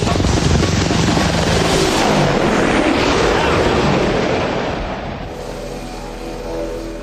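An AH-64 Apache helicopter roars close and loud with a dense rotor-blade throb, then fades somewhat as it moves off.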